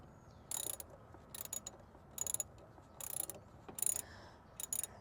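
Wrench loosening a car battery terminal fitting, several short metallic ratcheting clicks in irregular bursts, close and fairly quiet.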